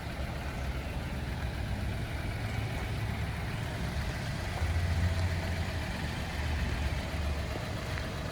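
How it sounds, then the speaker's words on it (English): A 2015 Subaru Outback 2.5i boxer engine idling, a low, steady, quiet rumble heard up close with constant broadband hiss and no change in speed. "You can barely hear the boxer engine"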